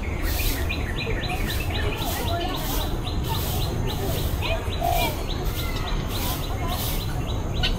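Birds chirping outdoors in a rhythmic series of high, quick tweets repeating over a steady rustling background, fairly faint and continuous throughout.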